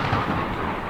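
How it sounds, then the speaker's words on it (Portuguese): Thunder from a violent midnight electrical storm, a short, loud, low rumbling roll with no voices. "O trovão era uma agressão aos ouvidos."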